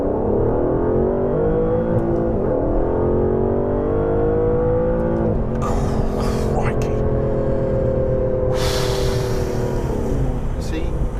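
An Aston Martin DBS accelerating hard, the engine note climbing steadily through several gear changes, loud and close from inside the car, with brief bursts of talk and noise partway through.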